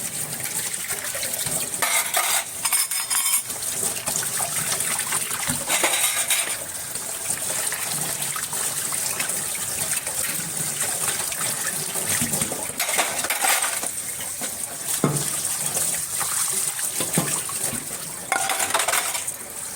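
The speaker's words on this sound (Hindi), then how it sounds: "इधर धोने लगी थी मैं बर्तन साथ साथ" Dishes are washed by hand with soap in a home kitchen, with continuous running water and repeated clinks and clatters of metal pots, plates and utensils knocking together throughout.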